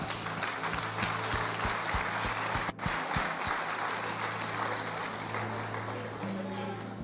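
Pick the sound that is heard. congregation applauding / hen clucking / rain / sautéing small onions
congregation applauding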